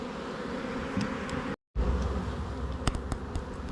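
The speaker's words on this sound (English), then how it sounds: "there will be a lot of bees in these two boxes." Honey bees in double-deep hive boxes buzz in a dense, steady hum close by, broken once by a brief moment of silence before the swarm's drone resumes.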